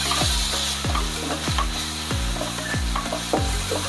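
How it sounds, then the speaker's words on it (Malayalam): A spoon stirs chili powder into semolina frying in a pan, with soft sizzling beneath rhythmic scraping strokes that repeat about every half second. "അതും കൂടി ഇട്ട് കൊടുത്തിട്ട് നന്നായിട്ടൊന്ന് ഇളക്കി ആ മുളക് പൊടിയുടെ പച്ചമുളകൊക്കെ മാറുന്നിടം വരെ നമുക്കൊന്ന് ഇളക്കി കൊടുക്കാം"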